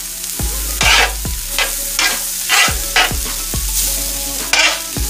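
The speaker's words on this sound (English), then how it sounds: "Sorry about the scraping." Korean short ribs stir-frying in a pan, with a spatula scraping the pan surface in a steady rhythm of about one stroke per half second. A constant loud sizzle runs underneath, and no voices are heard.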